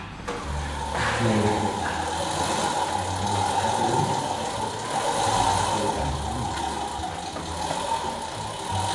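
A mini motorcycle engine idles steadily and loudly at close range indoors, with a brief rev near the start and a constant rattling hum.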